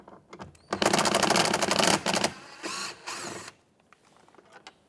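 An 8mm bolt is driven out of a 2009-2014 Ford F-150 interior door panel with a power tool: a loud, rattling mechanical whir of about a second and a half, then a shorter second burst and brief clicks.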